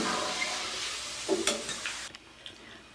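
Sliced onion rings frying to golden brown in a pan for aloo baingan salan, a steady close sizzle with a few scraping stirs, fading slightly near the end, with no talking.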